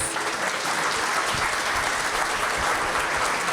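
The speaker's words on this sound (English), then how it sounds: "let's give Matthew another round of applause." An audience at a talk in a bar in Adelaide gives a steady round of applause. The clapping is dense and even, holds at the same level for its whole length, and no voice rises clearly above it.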